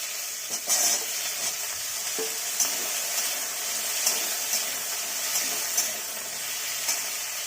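Cubed potatoes and taro sizzling steadily in a hot pan, a bright continuous hiss broken by light scraping stir strokes at irregular intervals, close and with no talking.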